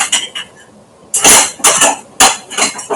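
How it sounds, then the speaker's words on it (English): A metal spoon clatters against bowls and kitchen utensils while coconut milk and sugar are being mixed for a Jamaican sweet potato pudding: a few sharp clinks and knocks, close and fairly loud. "Grab my spoon from here."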